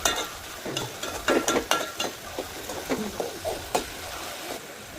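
Onion and tomato stirred and fried over high heat in a pan for vegetable dalia khichdi, with a quiet sizzle beneath repeated scraping and clinking spoon strokes against the metal.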